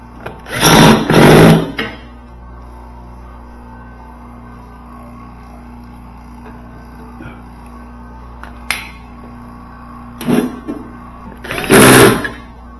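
A vacuum pump pulls vacuum on a Sub-Zero 424 wine cooler, its low, steady motor hum running throughout, broken by two loud rattling, clattering bursts near the start and the end.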